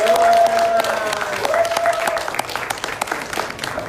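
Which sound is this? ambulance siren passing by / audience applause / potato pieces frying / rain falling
audience applause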